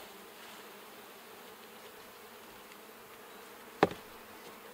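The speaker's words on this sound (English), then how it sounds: "I'm going to shake these bees." Honey bees buzzing faintly and steadily as they are shaken off a packed hive lid, with one sharp knock near the end.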